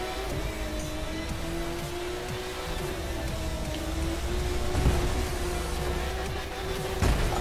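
A car engine drones steadily while driving in The Crew 2, a sustained hum with a rising pitch and some rumble, loud and continuous with no talk.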